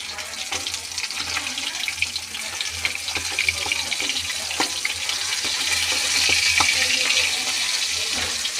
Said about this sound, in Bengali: এটা বিড়ালের জন্য মাছ ভাজা হচ্ছে, মাছের লেজা বিড়ালের।